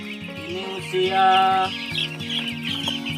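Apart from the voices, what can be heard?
clucking chickens of the mabar breed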